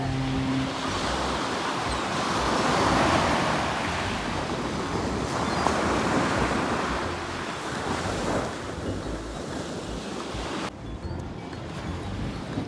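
Ocean waves wash and surge steadily beside a lighthouse, mixed with gusty wind buffeting the microphone, with no talking.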